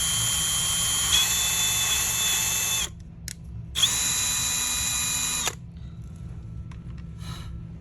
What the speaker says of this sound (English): so I will just start drilling it on the wood side.